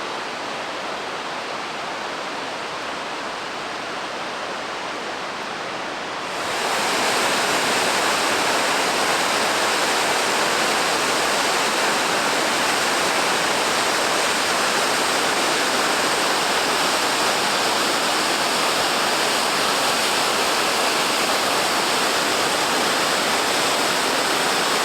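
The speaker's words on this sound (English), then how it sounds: "What a beautiful waterfall it is." A steady, dense roar of rushing water from a waterfall on a river, loud and continuous with no voices, swelling noticeably louder after the first several seconds and then holding even.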